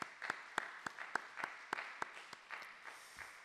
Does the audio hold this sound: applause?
yes